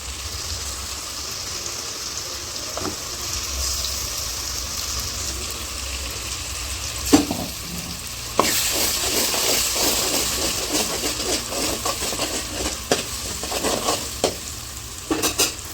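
A ground onion and ginger-garlic paste hits a hot pan for an Andhra fish curry, giving a steady sizzle and frying hiss, then repeated scraping stirs and clinks from about midway.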